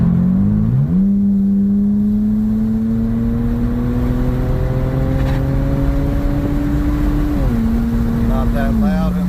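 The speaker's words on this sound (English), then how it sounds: "we're fitting to fire it up and see what it sounds like" A BMW 328i with mufflers fitted cruises down the road at about 50, its steady low exhaust drone shifting pitch slightly as speed changes, heard from inside the car as a continuous engine hum.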